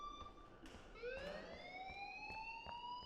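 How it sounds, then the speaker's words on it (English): A school fire alarm in the video game Life is Strange blares after a brief quiet start, a loud sustained electronic tone rising gradually in pitch with harmonics, steady through to the end. "please turn off that alarm since that's your job"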